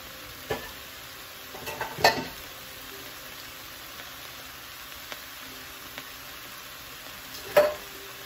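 Peppers and onions fry quietly in a pan while being stirred, a steady low sizzle broken by a few brief spoon scrapes and clinks, close and fairly soft.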